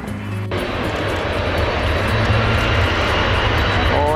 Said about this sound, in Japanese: 飛行機飛ぶよ、飛ぶよ。